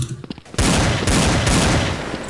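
An M4A4 rifle in the video game First Blood fires loud, rapid automatic bursts that run almost continuously after a brief quieter lead-in.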